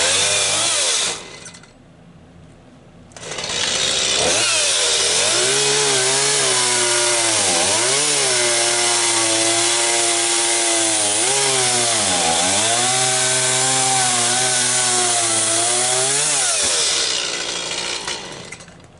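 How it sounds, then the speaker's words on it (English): A chainsaw cuts a solid white pine log being milled into 2x4s, loud and close, with a short idle dip before the engine roars into a long sustained cut that wavers in pitch as it bites. "when I'm cutting it with the chainsaw, it still seems solid"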